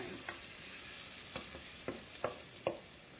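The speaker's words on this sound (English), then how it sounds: "we add the onions. They caramelize a little bit." Onions frying in oil in a pan on a stovetop, a steady close sizzle broken by a few sharp clanks of stirring.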